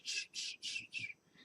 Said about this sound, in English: She started to whistle blow into a cup with a plant drink in it.